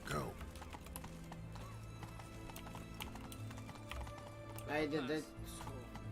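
Roach's hooves clip-clop steadily in The Witcher 3 as the horse trots along, a close, even rhythm throughout, with a brief whinny near the end and a voice speaking briefly over it.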